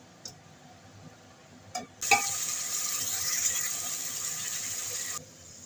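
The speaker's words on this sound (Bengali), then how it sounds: "এবার আমি মশলাটা দিয়ে দেবো তেলের মধ্যে" Spice paste dropped into hot oil: after a couple of light clinks, a loud burst of bright sizzling that holds steady for about three seconds and then cuts off abruptly.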